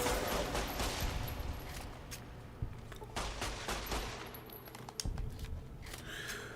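Rapid gunfire from Fallout New Vegas in the Big MT add-on, dense bursts of shots layered over a constant game background, with a few sharper single cracks standing out near the middle and end.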